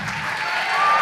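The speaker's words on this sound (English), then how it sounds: "So let's give them another round of applause." Applause from the audience at a 5th and 6th grade school band concert, a steady wash of clapping that holds for about a second and swells slightly toward the end, with no voices over it.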